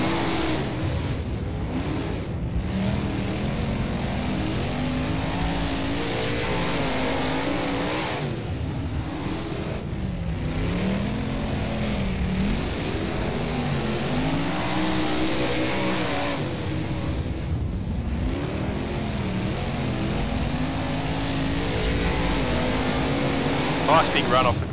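A 410 sprint car lapping Lincoln Speedway in the rFactor racing game, the engine droning continuously with rising and falling revs through the corners, loud and steady, with a voice talking over it.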